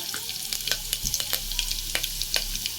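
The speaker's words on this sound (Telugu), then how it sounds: "కట్ చేసిన ఉల్లిపాయ ముక్కలను అయితే వేసుకొని బాగా వేయించుకోవాలి" Chopped onion pieces fry in oil inside a pressure cooker, giving a steady crackling sizzle close by, broken by sharp pops and spatters and a few stirring scrapes; no one talks.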